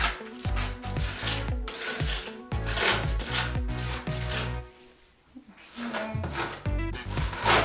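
Trowel scraping mortar around the edges of a walk-in shower during a DIY bathroom renovation, repeated rough gritty strokes in an uneven rhythm, close and fairly loud, with a brief pause midway.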